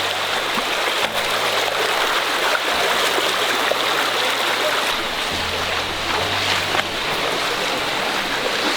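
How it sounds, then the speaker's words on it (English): Continuous rushing river water from wading across a jungle river toward a cave entrance, a steady broadband wash with a low engine-like hum underneath, close and loud throughout. "just walking on the river to get to the entrance of the cave"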